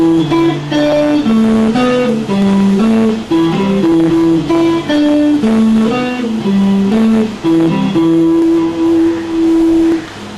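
A guitar plays a repeating melodic riff of single notes from a Hindi song, loud and close, with one note held near the end.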